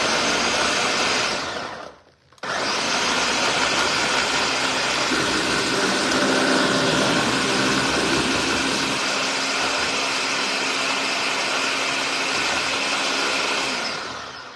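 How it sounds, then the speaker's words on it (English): Countertop blender whirring through onions and habanero peppers for cassava leaves, a loud steady motor roar that stops briefly and then restarts and runs on, with no voices over it. "So let's blend. Onions, habanero, that's it."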